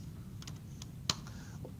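Several light keystrokes tap on a computer keyboard, quiet and close, in an irregular short sequence with one sharper click, no talking.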